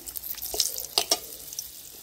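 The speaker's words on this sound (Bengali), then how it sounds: "ফোড়নে দেবো গোটা শুকনো লঙ্কা, তেজপাতা, দুটো এলাচ, লবঙ্গ আর দারচিনি।" Whole dried red chillies, bay leaf, cardamom, cloves and cinnamon hit hot mustard oil in a wok, giving soft crackling sizzles with a few sharp pops and spits, fairly quiet and close.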